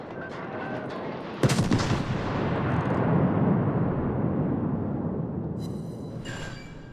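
Battleship New Mexico's main artillery shells fire in World of Warships, a heavy booming salvo with one sharp crack that rolls into a long, dense rumbling tail before fading.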